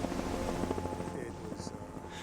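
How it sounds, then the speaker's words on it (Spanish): A helicopter hovers during an attempted rescue in a storm, its rotor throbbing in a loud continuous pulse amid roaring wind, with people's voices faintly under it. "El helicóptero batalla durante 1 hora intentando rescatarlos antes de aceptar la derrota."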